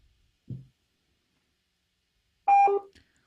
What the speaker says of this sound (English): That was the disconnect signal, exactly.